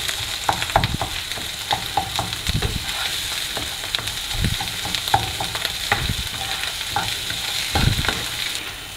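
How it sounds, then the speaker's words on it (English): Egg curry masala cooks in a pan with a steady, close sizzle, and a spoon scrapes and stirs it in irregular bursts. No one speaks. "Just cook it for 1 minute and that will be enough."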